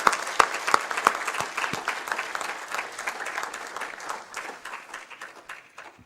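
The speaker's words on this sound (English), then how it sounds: "Let's give them both an applause for their good work that they do." An audience at a lecture event on US–Armenia relations applauds, a dense sustained clapping from a moderately sized crowd that starts strong and gradually tapers off.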